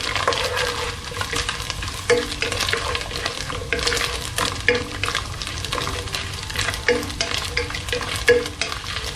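Coconut pieces with cardamom and a bit of cinnamon fry in oil for a Kerala beef curry, a continuous sizzle broken by repeated scraping strokes of a spoon stirring in the pan, close and fairly loud.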